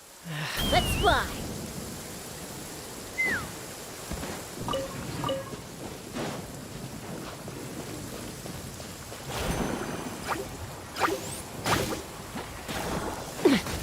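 Rain and rumbling thunder from Genshin Impact weather, a steady wash of rain with swooshing gusts and low rolls, mixed with game effects and occasional voices over it.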